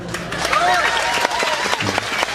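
An audience at a religious sermon gathering in Taichung, Taiwan claps briefly, producing a dense, fairly loud patter with voices mixed in.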